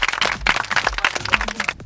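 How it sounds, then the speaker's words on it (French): Contestants in a modelling competition clapping for themselves, a small group's brisk, uneven handclaps, close and lively, lasting under two seconds. "applaudissez-vous vous-même"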